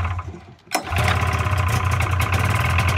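A 1994 Polaris Super Sport snowmobile engine fires on a pull start after a quiet moment, then runs loud and close at a steady, buzzy idle.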